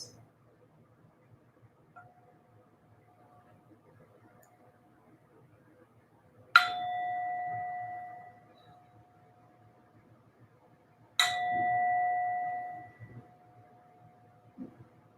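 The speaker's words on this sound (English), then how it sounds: "listen to the sound of the bowl ringing just 3 times." Two clear strikes of a singing bowl ring out in near silence, each a bright metallic hit that hums on with a sustained tone for about two seconds before fading; a faint earlier tap precedes them.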